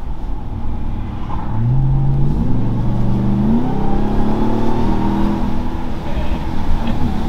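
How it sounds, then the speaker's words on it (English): A supercharged 2021 Ram TRX pickup accelerates in sport mode, its loud, close engine roar building steadily while a whining tone climbs in pitch, continuous throughout. "I like how you can still hear the supercharger"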